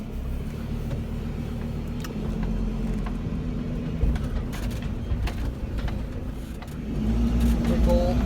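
A car accelerates on a test drive after a turbo under-boost and limp mode fault was fixed, a steady engine drone that builds louder toward the end, heard from inside the cabin.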